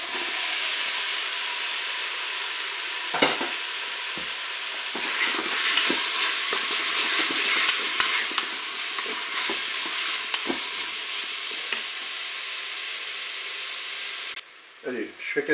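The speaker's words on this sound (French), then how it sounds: "mes oignons, l'huile est chaude. Allez, je vais ajouter ma viande." Beef pieces with onions sizzle loudly in hot oil inside a Cookeo multicooker, a steady bright frying hiss broken by scraping stirs and spatula knocks, ending in a brief quieter moment.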